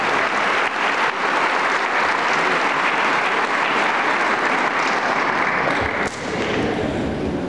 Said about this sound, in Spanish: si hay aplausos con todo el corazón y con todas las fuerzas